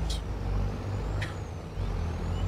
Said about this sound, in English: That truck is so loud, sir.